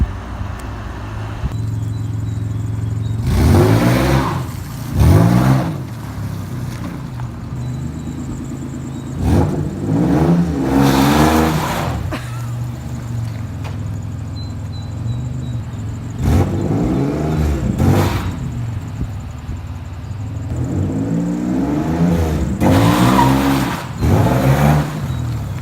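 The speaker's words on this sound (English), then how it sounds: "we're going to give it some hard acceleration at slow speeds" Rusty Toyota Tacoma pickup under hard acceleration at low speed, engine revving in several loud bursts that rise and fall over a steady idle, with faint tire noise.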